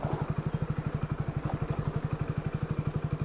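An off-road motorcycle ridden over rough ground near Jammu gives a steady, fast, even engine thump. It sounds moderately close and runs alone, with no talking.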